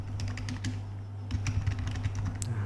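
Fingers typing a password on a computer keyboard, quick irregular clicks and taps in a short close burst over a steady low electrical hum.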